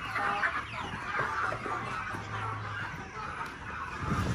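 A flock of about seventy chickens clucks and calls on a farm, a steady busy chorus of overlapping hen sounds close by, with no clear talking.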